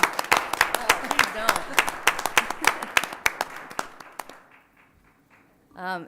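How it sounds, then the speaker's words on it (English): An audience at a state education board meeting claps for the state Teacher of the Year, sharp distinct claps at a lively rhythm that thin out and stop after about four seconds, followed by a brief voice. "I feel like we should stand and applaud"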